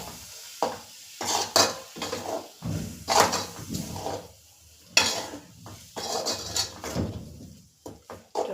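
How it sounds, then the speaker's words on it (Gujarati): A spoon stirs grated coconut into bottle gourd mawa in a pan, giving repeated scraping and clinking strokes against the metal in uneven bursts, close and fairly quiet, with no talk. "હવે મસ્ત આપણે એને માવામાં મિક્સ કરી દઈશું."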